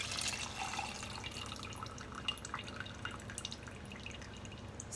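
Margarita topped with Perrier poured over ice into an insulated cup, a faint trickling, dripping liquid stream running steadily for several seconds, close and quiet with no talk.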